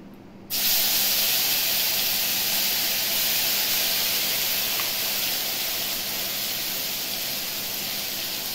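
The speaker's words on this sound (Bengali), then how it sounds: "এবার আমি মশলা দিয়ে মশলাটা কষিয়ে নিই" Spice paste of onion, green chili and garlic fries in a pan for a Bengali bata fish curry, starting with an abrupt loud hiss and continuing as a steady, close sizzle.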